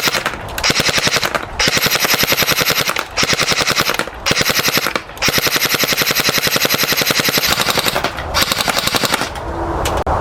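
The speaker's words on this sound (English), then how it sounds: "Now let's start off with some target shooting." Snow Wolf M3A1 Grease Gun airsoft gun firing at a target about 30 feet away in long, rapid full-auto bursts, loud and close, with short gaps between strings of shots.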